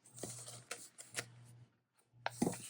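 Paper being trimmed for a handmade journal signature, with several short, crisp papery swishes and snips separated by brief pauses, close and fairly quiet, no voices.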